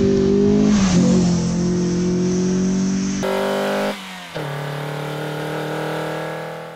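Mazda Miata, a salvage car, revving and accelerating up close, a loud engine note that climbs in pitch, briefly dips and drops away near the four-second mark, then resumes strongly with no talking over it.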